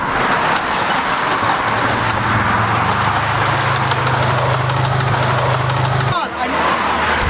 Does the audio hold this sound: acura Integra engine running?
yes